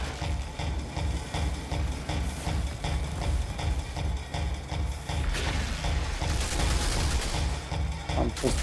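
Rapid gunfire from shooting through enemies in the Outriders video game, with dense bursts over a steady low engine-like rumble that intensify toward the end.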